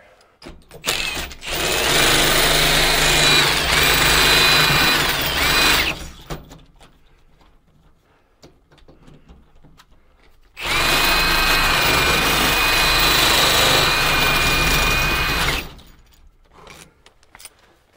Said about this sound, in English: So I need to re-drill my pilot hole there.